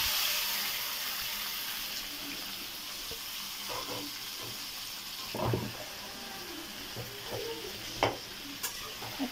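Broiler chicken fries with browned onions in a pan, a constant close sizzle with occasional stirring scrapes and clinks of the utensil, plus faint running-water sounds.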